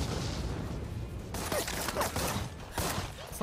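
Bursts of gunfire from an Arknights anime battle scene sound in several rapid, dense volleys over a steady roar of background noise.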